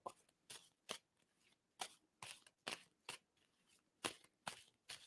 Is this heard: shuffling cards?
yes